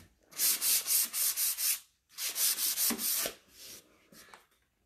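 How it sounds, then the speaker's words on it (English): Rhythmic back-and-forth fine sanding strokes rasp across a painted wooden jewelry armoire in two close bursts, then trail off into a softer final pass. "I'm going to just give it a fine sanding just to knock down any of the high points"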